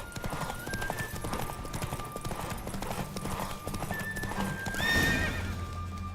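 Horse galloping in a race in The Witcher 3, a steady rapid clip-clop of hooves with a short whinny near the end, over game background music.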